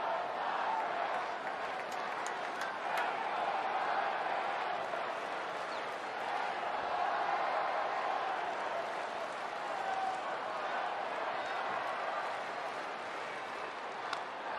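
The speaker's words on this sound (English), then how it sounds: "Crowd loving it." A baseball stadium crowd roars during a San Diego Padres versus Cincinnati Reds game, a broad continuous wash of cheering and applause that stays steady and distant-sounding throughout, with no distinct voices standing out.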